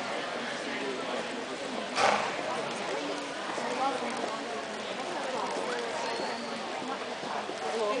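Horses jog around a show arena, their hooves making a steady, continuous clip-clop over a broad wash of arena ambience at a moderate distance.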